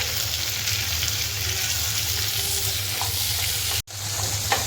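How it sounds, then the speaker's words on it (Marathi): Sliced onion and tomato sautéing in a pan, a steady close sizzle with stirring scrapes throughout, broken by one brief drop near the end. "हे पण उभेच कापलेले मी टॅमेटो आहे ते टाकूया त्यालाही मी व्यवस्थित परतून घेते"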